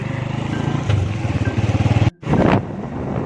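Habal-habal motorcycle taxi engine in Kalibo, a loud, close, steady pulsing putter that briefly cuts out, then comes back revving harder before settling into an even idle.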